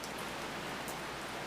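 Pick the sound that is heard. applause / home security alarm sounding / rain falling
rain falling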